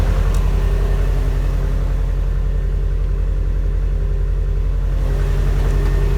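A Subaru WRX STI running on a cold idle just after startup at a raised speed, a loud, steady low rumbling burble with an even pulsing exhaust beat throughout.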